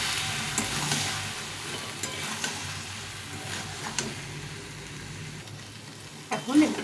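Boiled peas sauté in a hot pan, giving a steady, moderate sizzle with occasional soft scrapes of a stirring spoon and a louder clatter near the end, no speech.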